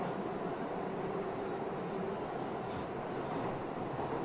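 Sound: train tracks rattling in video game Panzermadels

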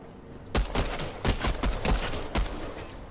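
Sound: gunfire from shooting in Fortnite video game

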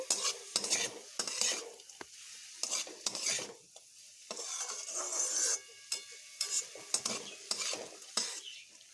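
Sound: stirring banana stem with salt and turmeric in a pan

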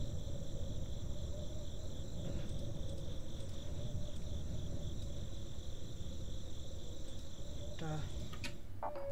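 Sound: ghost crickets chirping in The Darkside Detective video game

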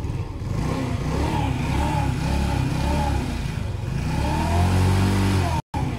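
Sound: restricted 50cc motorcycle engine revving during warm-up

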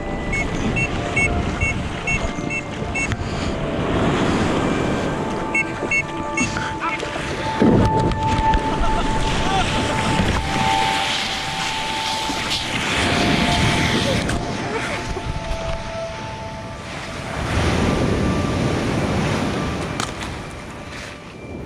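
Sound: tour boat heading back to shore through waves

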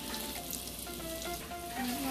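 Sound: minced garlic and curry frying in oil

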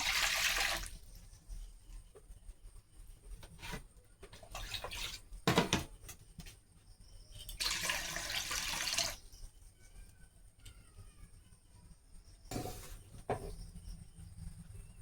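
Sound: water being poured into a wok

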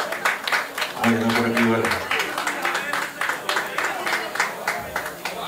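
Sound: applause for La Faraona

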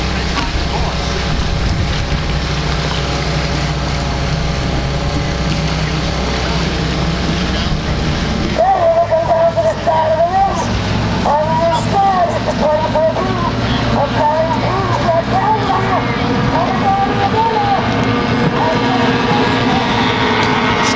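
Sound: A stock hydroplane racing boats coming around for the start

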